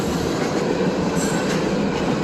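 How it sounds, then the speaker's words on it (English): A Canadian National train passes close by, with a loud, continuous roar of rolling wheels and rail noise and a faint squeal on top, steady throughout with no voices. "We were heading home from rail fanning and we got another train."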